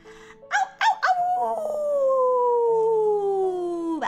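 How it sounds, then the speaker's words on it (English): An elderly patient in the Oyabu Clinic video game lets out a loud, drawn-out howl that slides slowly downward after a few short yelping cries, ending abruptly. "That was a really bad howl."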